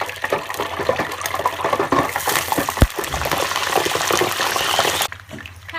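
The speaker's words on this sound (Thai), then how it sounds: "ก็เอาใส่ลงไปทอดเลยค่ะ" Grasshoppers deep-frying in hot oil with pandan leaves give a steady, loud, close sizzling hiss that drops to a quieter bubbling near the end.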